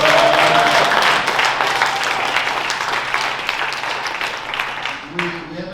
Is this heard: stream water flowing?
no